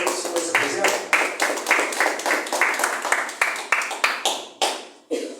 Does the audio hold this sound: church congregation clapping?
yes